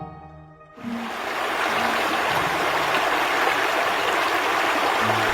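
The Chishui River flows in a broad, constant rush of water that swells in after a brief quiet start and holds steady and fairly loud.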